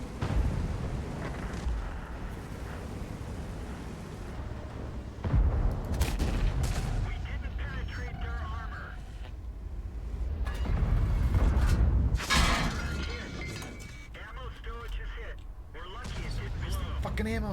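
Deep booming blasts and gunfire roll through a World of Tanks battle, where a tank's ammo rack detonates, with heavy explosions standing out amid game noise and a voice talking over it.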